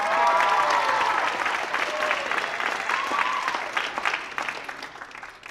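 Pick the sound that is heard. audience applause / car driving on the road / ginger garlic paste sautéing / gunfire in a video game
audience applause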